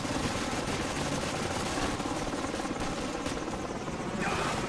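Helicopter rotors thump and drone steadily in a Call of Duty 4: Modern Warfare battle, a loud continuous whirring wash with a few faint sharp cracks mixed in.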